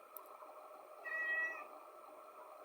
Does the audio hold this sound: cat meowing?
yes